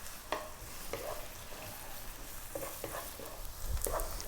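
Ginger strips stir-fried over fairly high heat in a pan give a steady broad sizzle, with short scraping stirs recurring every second or so up close, and no voices.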